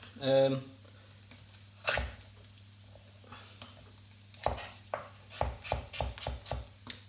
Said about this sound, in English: And take your time when you're cutting, don't chop your fingers.